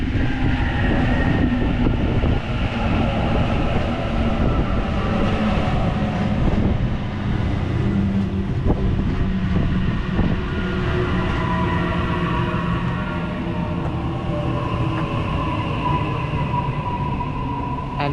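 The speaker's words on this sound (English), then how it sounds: "Now we have A24 pulling in for a terminating suburban service." Suburban electric train A24 pulls into Revesby station, a loud, continuous rumble of wheels and motors with metallic rail squeals and clatter, heard close from the platform and easing slightly as it slows.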